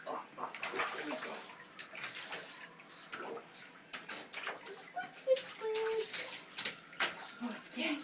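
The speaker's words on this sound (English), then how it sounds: "Oh, he splashed his face." A small boy in a bathtub with flaking paint splashes the water in scattered bursts at close range, while adults talk and a voice comes and goes between the splashes.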